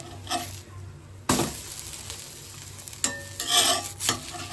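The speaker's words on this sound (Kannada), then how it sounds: "ಚೆನ್ನಾಗಿ ರೋಸ್ಟ್ ಮಾಡಬೇಕು ಈರುಳ್ಳಿನ ಅದೇ ಎಣ್ಣೆ ಸ್ವಲ್ಪ ಜಾಸ್ತಿ ಹಾಕಬೇಕು" Onions roasting in plenty of oil in a pan, a continuous sizzle broken by several scraping stirs of a spoon, close and clear with no talking.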